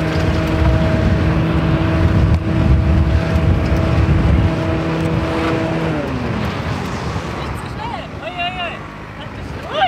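An off-road vehicle's engine accelerates hard through Sahara desert sand in Morocco, a loud sustained drone that holds steady and then drops in pitch as it bogs down, with a person speaking over it near the end.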